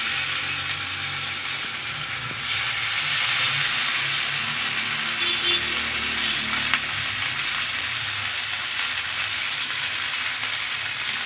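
Marinated fish pieces frying in oil in a pan for a fish fry, a continuous close sizzle and crackle that swells slightly partway through, steady and unaccompanied by speech.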